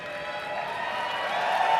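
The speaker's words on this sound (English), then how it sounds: "Listen to that crowd." A large arena crowd at Dota 2 The International 2024 roars in a steady, dense wash of cheering that swells slightly louder toward the end, heard on its own without nearby talk.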